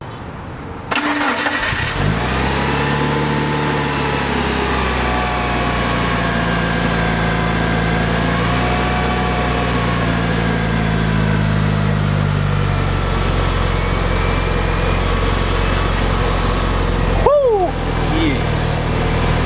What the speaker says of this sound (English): We're going to try and plug this thing in, start cranking it, and see if it turns over.